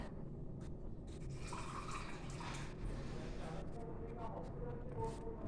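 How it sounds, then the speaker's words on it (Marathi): Water trickles into a kitchen vessel holding finely ground chili paste for bread pakoda batter, a soft, close splashing fill running steadily, with faint speech in the background. "त्यात आपण थोडंसं पाणी घेऊया"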